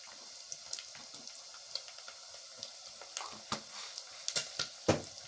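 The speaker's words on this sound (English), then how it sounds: "And stir it very well" Pilau being stirred with pilau masala in a pot: soft scraping and clinking spoon strokes over a steady low sizzle, with a few sharper knocks toward the end, close and fairly quiet.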